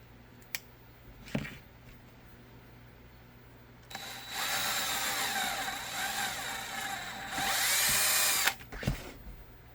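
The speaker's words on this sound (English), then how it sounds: "I'm going to go ahead and drill these two out, put them together, drill these two holes" A power drill whirs in two sustained bursts, climbing in pitch as it bores holes in a pocket holster, with a few clicks and knocks before and after.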